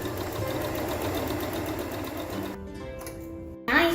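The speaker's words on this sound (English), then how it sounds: "Then Julia sews the other long edge." A sewing machine runs steadily while stitching the long edge of a fabric face mask, a continuous mechanical whir for most of the span before it stops and quiet handling noises follow.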